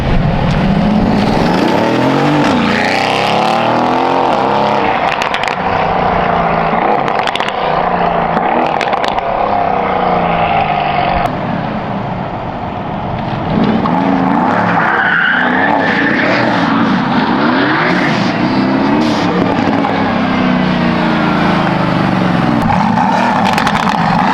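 A loud sports car with a custom exhaust roars past repeatedly, engine revving hard with exhaust rasp and tire noise, sustained and close throughout with a brief dip midway.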